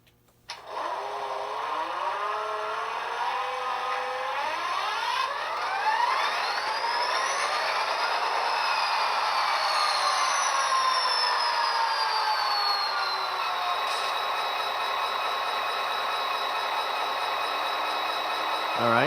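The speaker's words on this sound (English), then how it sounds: "the unit has an auto start, so when you turn on track power, it'll automatically start up" An HO scale Athearn ready-to-run SD40-2 model locomotive's DCC sound decoder runs through an automatic diesel start-up: rising and sweeping engine tones build over several seconds into a steady, loud idle rumble heard alone, without talk.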